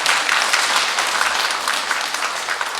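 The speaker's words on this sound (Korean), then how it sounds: "박수로 축하해 주시기 바랍니다" Congregation applause at a monthly Catholic parish meeting, a dense, continuous wash of clapping from many hands, steady and fairly loud with no voices over it.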